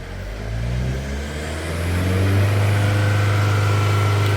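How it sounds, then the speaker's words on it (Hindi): A Tata Safari Storme with a black-smoke, knocking and pickup fault on cylinder 1 revs up, its diesel engine note climbing to higher RPM and then holding a loud, steady drone close by. "अब गाड़ी के थोड़े आरपीएम फास्ट होंगे।"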